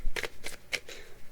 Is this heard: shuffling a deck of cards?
yes